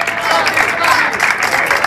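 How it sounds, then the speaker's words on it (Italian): Audience applause at an outdoor town festival in Trinitapoli, a loud burst of crowd clapping mixed with voices and cheering throughout. "faccio un applauso grande"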